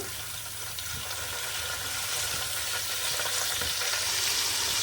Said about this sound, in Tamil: இப்போ இந்த சட்டியில் இப்போ எண்ணெய் ஊற்றிட்டு இதில் சும்மா பட்டை கிராம்பு